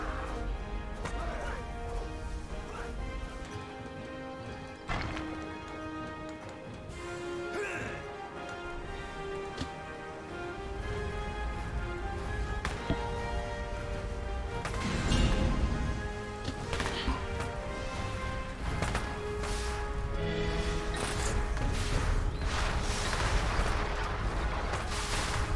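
Over-the-top explosions in the strategy video game Rise of Legends, with repeated crashing blasts and rumbling impacts over layered game music, building denser and louder toward the end, with some talk beneath.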